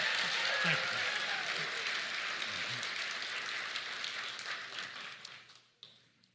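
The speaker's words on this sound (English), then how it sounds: "Please give him a round of applause." Audience applause at a criminal justice reform forum, a dense sustained clapping from a large crowd that gradually fades out over about six seconds, ending with a few stray claps.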